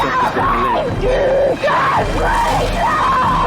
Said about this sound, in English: Can't you hear the screams?